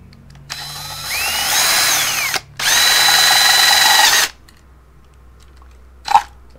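A power drill bores a 1/4-inch hole through plastic trim on a 2014-2018 Chevrolet Silverado, two sustained whining bursts with rising and falling pitch separated by a short pause, followed later by a single sharp click.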